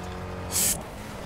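A car driving in the racing video game Burnout Paradise, a steady engine drone with a brief bright hiss or skid burst in the middle, no talk.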